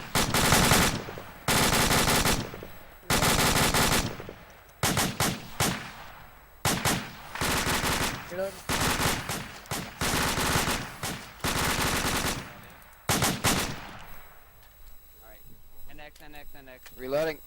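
Bursts of machine gun fire in the tactical shooter game POF Platoon Operations Fireteam, long loud automatic strings separated by short gaps, with team radio voices talking in between and over the shooting.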